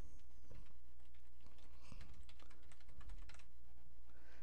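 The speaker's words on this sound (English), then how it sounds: "I'm going to type in my email address." Fast, close keystrokes on a computer keyboard as an email address is typed, clicking in uneven bursts over a low background hum.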